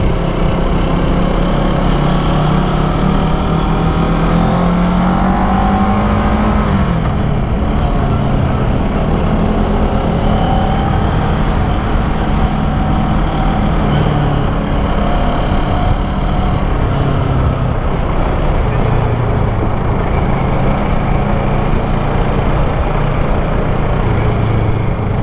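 Kawasaki ER-6n motorcycle from 2012 on a test ride, with a steady loud engine drone and wind rush throughout, pitch rising and settling as it pulls in low gear.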